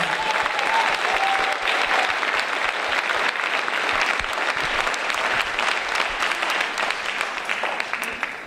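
The audience at a spring school band concert applauds the band students, with full, sustained clapping from many hands filling the hall for several seconds before tapering slightly at the end.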